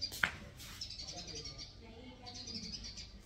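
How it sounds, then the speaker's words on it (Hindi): Small birds chirp and tweet faintly outdoors in short high calls, with a sharp call near the start and scattered chirps over a low murmur of background noise. "चिड़िया चहचा रही हैं।"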